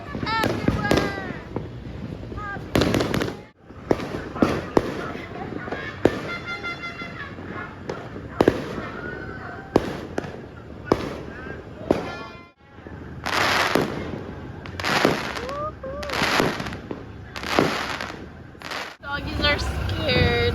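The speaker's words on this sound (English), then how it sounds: "Everywhere! Fireworks everywhere!" New Year fireworks burst all around, with repeated loud cracks and booms, crackling flurries and whistling rockets, some near and some far, while people shout greetings through them.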